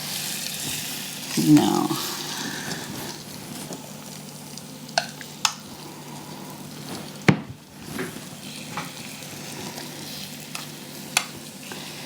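Chaffle batter with cheese sizzling in a waffle maker: a soft, steady frying hiss with a few clicks and taps, briefly louder near the start.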